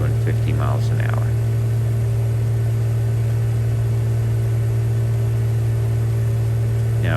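A Viking 150 light aircraft engine cruises at 3,400 RPM with a steady droning hum and heavy low-pitched tonal buzz in cabin noise, and a brief voice is heard at the start.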